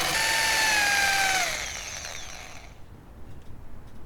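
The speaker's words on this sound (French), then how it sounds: "le plus facile est d'utiliser une mèche à façonner" A power drill fitted with a countersink bit bores into wood while building a wooden fence, giving a loud, close high whine that winds down after about a second and a half, then fades to quiet.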